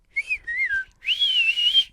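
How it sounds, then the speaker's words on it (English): A person whistles alone in two short melodic phrases, clear and close, the second longer and steadier than the first. "You know how to whistle?"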